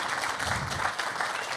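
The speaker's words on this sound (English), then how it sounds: "Could we have a little round of applause?" Audience at a conference lecture clapping steadily, a dense continuous patter of many hands at moderate volume lasting the whole short moment, with no voices over it.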